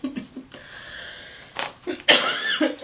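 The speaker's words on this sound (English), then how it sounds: "I'm not going to be able to edit all the coughs out, guys." Several close, loud coughs from a woman during a cross-stitch chat, with raspy bursts at the start and a harsher cluster near the end, separated by breathy pauses.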